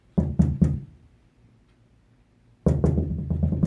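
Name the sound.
knocking on a bedroom door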